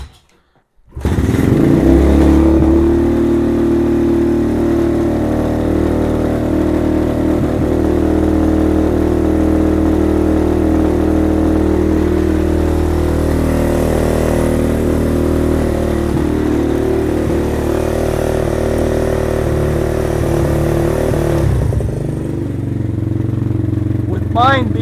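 Venom Thunder 125 dirt bike catches abruptly after a kick and settles into a loud, close, steady idle that runs for about twenty seconds before dropping away.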